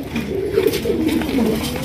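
A pigeon on a pigeon farm gives a low, steady cooing close by, continuous and fairly loud, with faint background noise and no clear talk.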